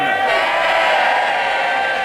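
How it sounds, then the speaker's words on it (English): Members of Parliament in the House of Commons cheer and call out together as a dense, steady crowd roar lasting about two seconds, close and loud throughout. "MPs did their best to cheer him on"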